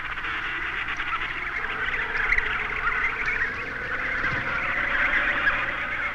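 A rookery of Adelie penguins on an Antarctic ice shelf, full of dense, overlapping braying and honking calls that blend into a continuous loud chorus, with no voices.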